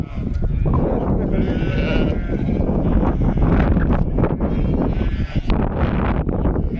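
A flock of sheep bleats outdoors, overlapping calls rising over steady wind noise and livestock bustle, with a person talking among them.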